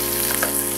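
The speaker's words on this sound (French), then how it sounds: "Vous prenez une poêle et on va la faire bien griller de chaque côté." Meat sizzles steadily in a frying pan, a close, continuous crackling fry with a brief stir partway through.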